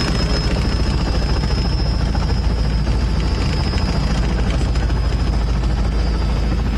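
A police special operations helicopter fitted with a thermal camera, flying during a search operation in Paraná. Its rotor and engine give a loud, steady, continuous drone with a constant high whine and no talk.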